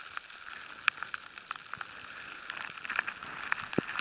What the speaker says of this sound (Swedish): men snöblandat regn där vi är